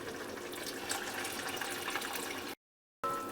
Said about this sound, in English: we're going to add just a little bit more water